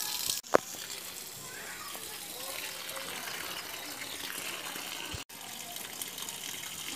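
Continuous gushing water pours steadily, with a couple of brief clicks or interruptions, sounding like a hose spraying onto chilli and guava plants nearby.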